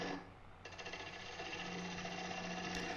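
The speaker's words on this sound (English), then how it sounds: "Now I'm going to make push cuts in towards the headstock with the left side of the bowl gouge to remove this tenon area." A bowl gouge makes push cuts across the tenon of a live edge wooden bowl spinning on a lathe, giving a steady loud whirring scrape with no pauses and no voices.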